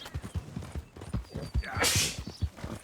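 A horse trots in Red Dead Redemption 2, its hooves beating a quick, regular clip-clop rhythm close by for about three seconds, with a short burst of breathy noise midway.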